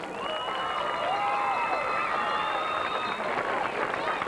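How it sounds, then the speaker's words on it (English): A football-field crowd applauds and cheers for homecoming queen and king candidates, a steady, dense wash of clapping and cheering with voices mixed in throughout. "Ladies and gentlemen, give them a round of applause"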